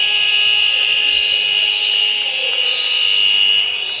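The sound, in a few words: futsal match full-time buzzer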